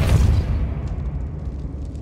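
A blast spell fired in the video game Hogwarts Legacy, a low booming burst that starts strong and decays into a rumbling tail over about two seconds, with faint clicks after.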